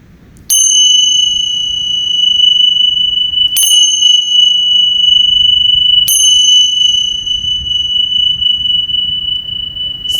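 A bright metal bell rings three times at even intervals on a beach during a yin yoga session, each strike sustaining a clear ringing tone that fades slowly over steady surf noise, with no talking.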